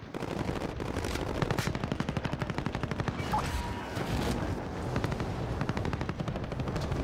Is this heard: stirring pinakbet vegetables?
no